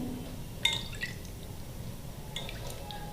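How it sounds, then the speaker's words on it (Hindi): Sour chutney drips and trickles onto crispy ladoo pithi fritters, a few soft close wet plops and patters over a quiet kitchen background. "और साथ में डालेंगे हम खट्टी चटनी"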